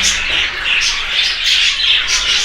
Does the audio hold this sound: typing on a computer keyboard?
no